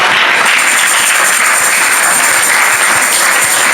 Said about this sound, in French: Acclamez pour l'État.